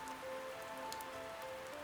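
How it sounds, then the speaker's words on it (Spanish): Rain patters steadily against the glass windows of an inn at night, a dense, even hiss of drops with no pauses and no voices. "la lluvia afuera continuaba con su ritmo paciente, golpeando los cristales de la posada"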